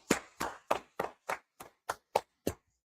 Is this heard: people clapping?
yes